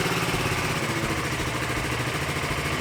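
A luxury motorcycle in a showroom idles on its original exhaust, giving a steady, close, continuous engine rumble with an even throb and no talking over it.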